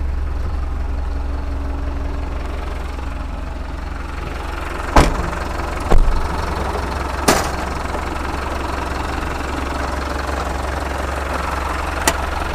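A steady, low idle from a 2019 Hino Dutro 5-ton dump truck's common-rail Euro 4 diesel engine rumbles close by, broken by a few sharp clanks and knocks.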